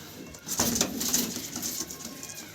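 A Madras or Giribaz pigeon coos close by, a short soft rolling call rising and fading within a couple of seconds over faint background noise.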